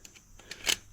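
Wire being cut while starting a pig run extension, with a few short, close snips and one brighter crisp cut near the end, heard alone.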